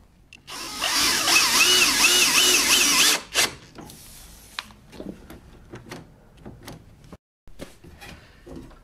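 A power drill drives a screw home near a table saw's sliding-table lever, whirring steadily and loudly for about three seconds, then stopping; clicks and handling knocks of the tool and parts follow.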